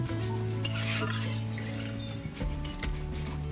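A spoon stirs homemade tomato sauce in a pan, with a steady scraping churn over a soft sizzle and a low hum, continuous and close, with no talking.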